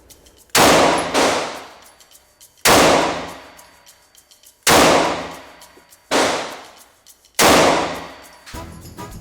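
Five loud pistol shots from an SCCY CPX-2 fitted with an aftermarket guide rod and spring, each sharp blast trailing a short ringing decay, spaced about two seconds apart outdoors with no talk.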